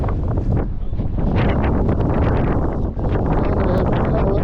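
Strong wind roars on a high mountain pass in the Zanskar Valley of India, a loud, constant buffeting rush that batters the microphone throughout, with brief dips in gusting and no voices.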